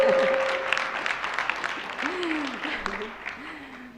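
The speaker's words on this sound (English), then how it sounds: "A lot of clapping and applaud for the Arabic." A panel audience at a women's economic forum in Jordan bursts into applause, a dense round of clapping that tapers off while a speaker's voice talks over it.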